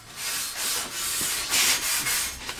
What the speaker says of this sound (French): on va aller gratter un peu de partout sur notre structure en acier